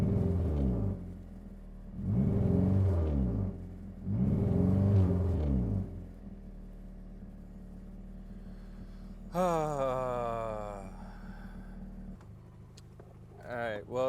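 2008 Honda Accord engine with a misfire being revved, rising and falling swells over a steady idle rumble, followed by a sharp rev climbing in pitch, heard up close.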